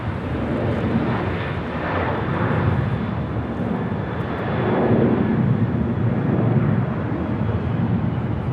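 Airliner taking off from runway 24 left at Los Angeles International Airport, a loud, steady broadband jet roar that swells toward the middle and holds, with no voices.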